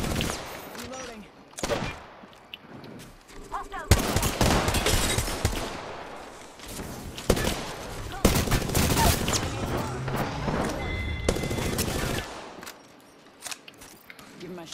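Prowler tank gun in a video game firing in heavy repeated bursts, loud and close, with rattling volleys that swell and pause across the stretch, a voice speaking in between.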